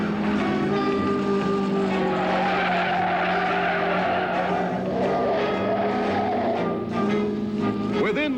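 Open-wheel race cars at the 1970 Indy 500 skid and spin through a crash pileup, a dense roar of engines with screeching tires that holds steady and loud throughout, ending in a rising whine.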